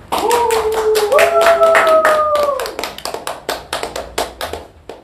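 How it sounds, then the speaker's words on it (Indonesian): A small group claps to welcome a trainer at an online training session, with crisp, close hand claps; voices hum or cheer over the first half before the claps thin into separate, evenly spaced slaps. "Mari kita sambut dengan tepuk tangan."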